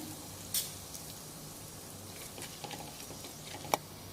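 Bay leaf, cinnamon, clove and fennel seeds sizzle in hot oil with a little ghee, a soft, steady crackling hiss broken by a few sharp pops and ticks.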